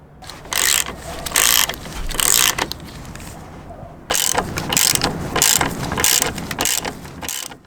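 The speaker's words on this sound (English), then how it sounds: "To remove it, it is a size 10 socket" Ratchet turning a size 10 socket on a Suzuki V-Strom 800 motorcycle center stand; repeated loud bursts of rapid clicking in a steady back-and-forth rhythm, very close.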